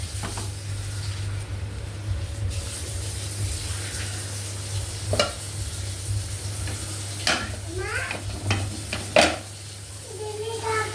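Pani puri mixture simmering in a pot, a steady low bubbling hiss and hum running throughout, with occasional utensil clinks and brief background voices breaking in near the end.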